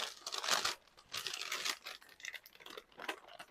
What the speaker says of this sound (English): Just pick up your wax paper and gently